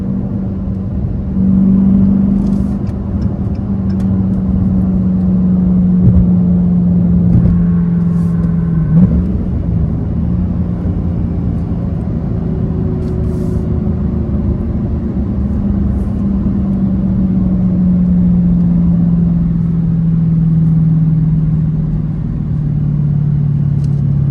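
A Dodge Challenger HEMI 392 V8 engine rumbles steadily at close range, its low tone rising and falling slightly as it is revved, with no voices.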